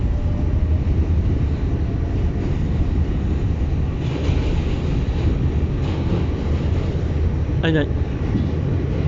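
Coney Island-bound N subway train running on the West End line at Coney Island, a loud steady rumble of wheels and carriage noise with brief squealing near the end, and a voice speaking briefly over it.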